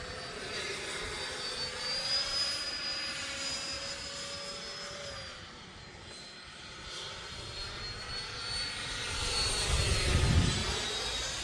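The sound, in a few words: Freewing F-15 90mm RC jet plane flying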